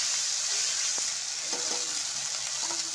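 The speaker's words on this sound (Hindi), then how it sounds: "जो लहसुन का वाला पेस्ट इसमें डाल देंगे" Garlic paste sizzles in a pan of browned onions and spices for a soya chunk curry, a steady, close frying hiss with a few soft stirring clicks and no talking.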